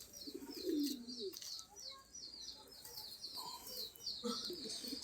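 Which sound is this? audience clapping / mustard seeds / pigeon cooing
pigeon cooing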